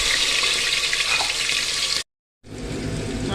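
Tomatoes and green chillies frying in a pan, giving a dense, even, close sizzle that cuts out abruptly for a moment before resuming, with no talking.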